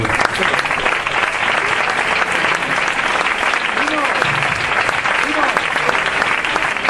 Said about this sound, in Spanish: Da un aplauso para el Señor.